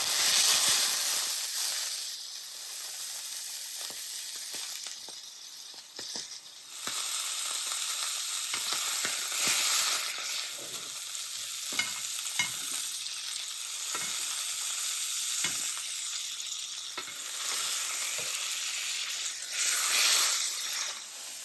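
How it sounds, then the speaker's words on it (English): Venison steak hard-seared in a smoking hot pan on a stove, giving a loud, continuous spitting hiss with dense crackles and pops that swell and ease in waves. "we're about to do a hard sear, and that's going to make it look beautiful"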